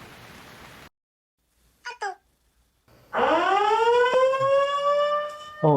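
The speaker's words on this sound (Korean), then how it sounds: "지금 울리는 경보 어디서 나는 소리죠?" A loud, sustained electronic slope warning alarm on a Korean expressway, with rich harmonics, blares steadily after a brief pause, preceded by short chirps and a burst of noise.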